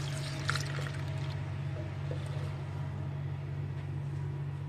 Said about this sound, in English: Next we pour a little milk.